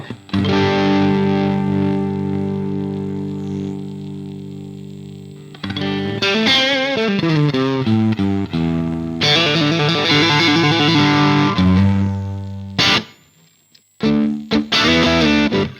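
An electric guitar played through a Soldano Mini SLO amp with a slightly gritty, edge-of-breakup tone: sustained chords, then busier melodic runs, loud and close, with a brief dropout near the end.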